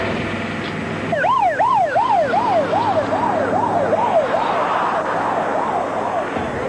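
A rescue vehicle's wailing emergency siren rises and falls in repeated sweeps, loud and close, over a low rumble of traffic, responding to an incident on a bridge.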